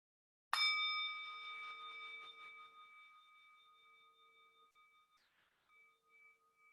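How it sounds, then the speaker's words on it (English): A meditation bell struck once opens with a clear metallic strike, then a long ringing tone slowly fades over several seconds in a quiet room. "I'm going to ring the bell, and then I'll ring it once to go in and once to go out."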